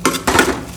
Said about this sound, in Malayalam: ബട്ടറും കൂടി ഇട്ടിട്ട് നമ്മളിത് ഒന്ന് ഇളക്കി കൊടുക്കണം